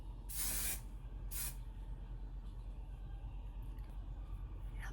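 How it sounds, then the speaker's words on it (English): Hairspray spritzed from an aerosol can in two short hissing bursts, close by, the first longer than the second, followed by quiet room tone. "Take some hairspray"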